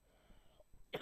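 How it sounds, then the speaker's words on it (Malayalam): A person gives one small, brief cough near the end, close and soft, over faint background noise. "ചെറിയ ചുമ ഉണ്ട്"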